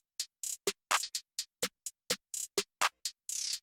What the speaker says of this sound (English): I added one more snare just because it kind of felt a little empty